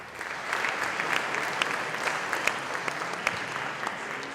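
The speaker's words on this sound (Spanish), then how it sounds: "Un aplauso, por favor." Audience applause at an academic political debate between Guadalajara candidates, a steady, fairly close burst of clapping with sharp individual claps standing out.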